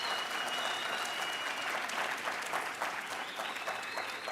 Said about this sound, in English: Can I hear the round of applause from yourselves about the lecture?